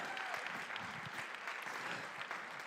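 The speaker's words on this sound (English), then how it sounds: "Give yourselves a round of applause." Congregation applauding during a White Stone ceremony in a church: continuous crowd clapping, fairly distant and moderately quiet, steady throughout with no speech over it.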